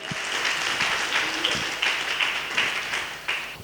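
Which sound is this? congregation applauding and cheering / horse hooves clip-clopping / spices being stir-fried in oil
congregation applauding and cheering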